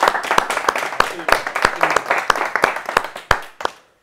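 A small group of footballers claps for a teammate in a team talk, sparse distinct hand claps in an uneven rhythm, close and sharp, fading out at the end.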